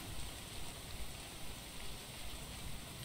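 Rain in the video game Wood & Weather, a faint, even hiss of steady rainfall with no other sounds over a few seconds.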